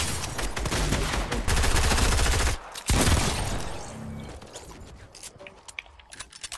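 Rapid gunfire in a shooter video game: dense bursts of loud, crackling shots, followed by scattered single shots and mechanical clicks that thin out toward the end.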